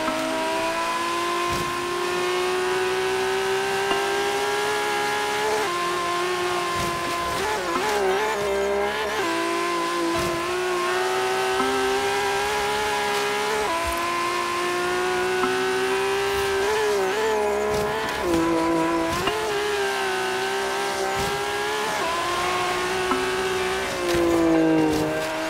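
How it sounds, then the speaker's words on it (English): A tuned 700 hp Nissan Skyline GT-R R32 racing in a driving game, its loud engine droning steadily with rising and falling revs, gear-shift dips and tire squeal throughout, alone without talk. "this GTR is just way too loud"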